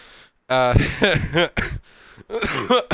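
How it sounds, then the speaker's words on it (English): A man coughs and clears his throat in short, close bursts after laughing, with a pained vocal edge and brief pauses between the coughs. "every time I try and laugh, I kind of cough, and that kind of hurts"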